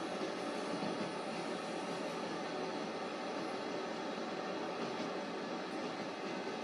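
Avanti Class 390 train running in a train simulator game, a steady rolling rumble and hiss of wheels on rail that stays even and fairly loud throughout.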